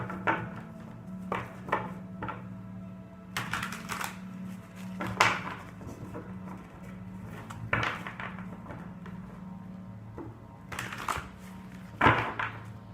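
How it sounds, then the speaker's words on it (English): Crystal oracle cards shuffled by hand at a tabletop reading, giving soft irregular taps and riffling clicks over a low steady hum, with bursts of crisper card slaps scattered through the passage. "So I'm going to mix the cards of crystals."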